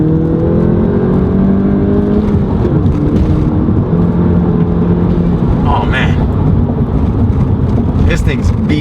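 A 2017 VW MK7 GTI on a Cobb stage 1 tune accelerates hard, its engine droning and climbing through the gears with wind and road roar heard from inside the car while a voice talks over it.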